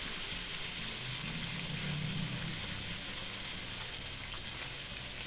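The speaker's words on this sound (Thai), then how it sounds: "นำเป็ด ทยอยลงทอดเรื่อยๆ" Salted duck heads deep-frying in hot oil give a steady, even sizzle and bubbling that runs unbroken throughout, with no voices over it.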